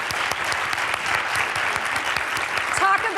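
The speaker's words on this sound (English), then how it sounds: "let's give her a round of applause for being the dean." A room full of audience members claps loudly and steadily at an interview event for the dean, dense applause continuing throughout with no talk over it.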